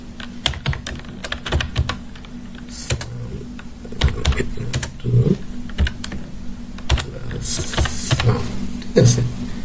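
Close-up clicking of a computer keyboard as Java code is typed, with irregular bursts of keystrokes and short pauses between runs, loud and near, while a voice speaks briefly.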